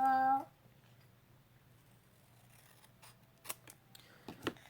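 Scissors snip paper while trimming an altered mini composition notebook, a few quiet, close clicks and cuts scattered near the end after a short tone at the start.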